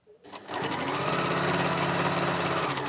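A sewing machine stitches steadily along the edge of a quilt block, a loud, continuous close-up whir of rapid needle strokes that starts after a brief pause and runs without break.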